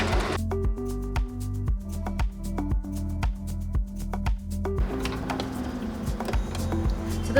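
A sewing machine stitching the side seam of a saree being remade into a fitted garment, running in rhythmic bursts of rapid mechanical ticking with brief pauses, close and clear.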